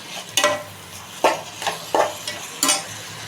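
Tomatoes frying in oil in a pan for masala tomato bath, with soft sizzling under four or five distinct scraping stirs of a utensil against the pan.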